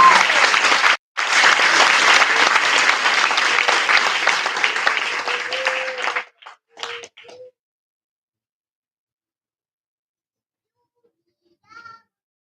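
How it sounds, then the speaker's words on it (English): Applause from a large audience at an aviation academy graduation ceremony, a brief pause, then sustained loud clapping for about five seconds that stops abruptly, followed by a few scattered claps and near silence. "Please have a big round of applause for them."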